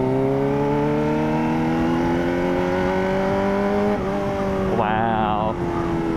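A Kawasaki ZX4RR motorcycle fitted with a full exhaust drones at a high, steady engine pitch that climbs gradually, then flutters briefly near the end, loud and close.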